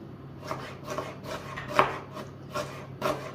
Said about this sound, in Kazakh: Ең алдымен пиязды майдалап турап қуырамын.